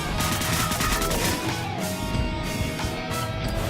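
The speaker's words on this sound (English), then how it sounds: "This tactical SMG suck." Tactical SMG fire in the video game Deadbolt, a dense, continuous rattle of rapid shots that stays loud and steady throughout, with no talking.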